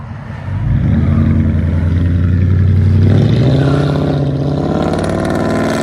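A Ford Crown Victoria 4.6L V8 with true dual straight-pipe exhaust rises from idle into a loud, deep, sustained rev. The burbling low rumble stays close and heavy for several seconds.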